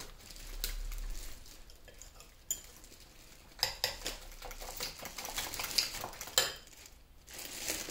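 Eggs being beaten with a utensil in a bowl for an omelet, a steady run of rapid metallic tapping and scraping strokes with some louder clicks, close and without talk.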